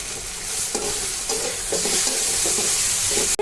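Chili paste with salt and turmeric frying in a pan for egg curry, giving a loud, steady sizzle broken by repeated scraping stir strokes of a spoon across the pan.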